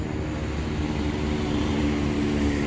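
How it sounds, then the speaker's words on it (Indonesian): An MJX B20 EIS 4K drone hovers overhead as it returns to its home point, giving a steady, loud propeller and motor drone with a wind-like wash and no talking. "drone sudah kembali dengan dia naik dulu kira-kira 30 meteran sesuai settingan kita di awal tadi"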